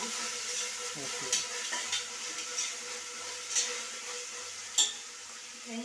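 Ginger-garlic paste sautéing with onions and green chillies in a pan for tomato rice, a soft steady sizzle with scattered scraping stir clicks and a few sharper utensil taps, no talking.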